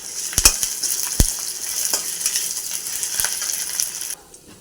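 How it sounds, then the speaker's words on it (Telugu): Onions frying in a pan with ginger-garlic paste and curry leaves for a beetroot and chana dal curry, a steady bright sizzle with several sharp clinks and scrapes of a spoon against the pan, then the sizzle dropping away near the end. "ఆనియన్ దోరగా వేగాక కొంచెం అల్లం వెల్లిపాయ పేస్ట్ వేసుకోవాలి."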